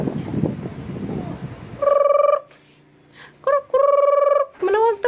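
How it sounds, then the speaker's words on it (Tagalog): A chicken calls nearby with loud, repeated tonal squawks in several bursts of rising and falling pitch, after a stretch of low muffled noise. "Manawag tas manok."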